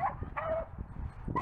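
Beagle puppy yips and whimpering barks, a few short high-pitched bursts spaced across the moment, fairly close, with low background rumble.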